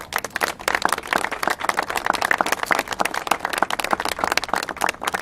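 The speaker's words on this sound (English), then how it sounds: "they deserve a round of applause as well." An audience at a mayor's budget announcement bursts into loud, close applause, sharp individual claps crackling densely and continuously throughout.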